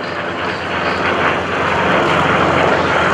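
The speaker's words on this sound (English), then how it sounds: "I want you to just listen to the sound of these engines" Piston warbird aircraft roar past at a Blue Angels homecoming airshow, a loud, continuous propeller-engine drone with a throbbing low growl that swells slightly as the planes pass close by.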